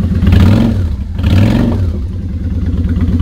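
A 2003 Honda Shadow Spirit motorcycle with Vance & Hines Straight Shots exhaust rumbles close by, swelling in two deep revs before settling into a steady, throaty idle.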